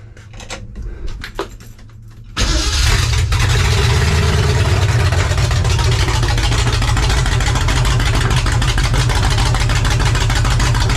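A 1982 Ford F-150 truck engine with its idle screws freshly adjusted starts up after some light clatter, then settles into a loud, steady, low idle that runs close by to the end.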